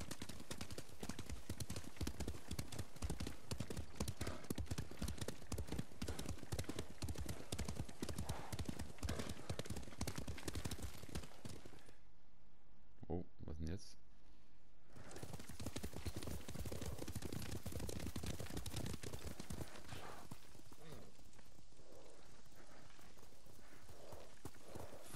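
Horses gallop in Ghost of Tsushima, loud rapid hoof clip-clop pounding steadily. The hooves drop out briefly midway, leaving a hush with a faint sound or two, then the galloping returns and fades toward the end.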